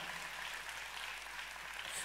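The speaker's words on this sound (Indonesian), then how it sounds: "Kalau mau tepuk tangannya yang paling meriah buat Yesus Tuhan kita." Congregation clapping in a church in Jogja, a steady even patter of many hands filling the whole moment at moderate level, with faint voices beneath.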